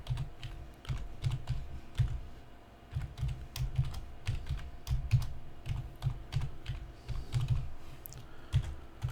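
Close, steady keystrokes on a computer keyboard as a password is typed, coming in quick bursts with brief pauses between them and no talking.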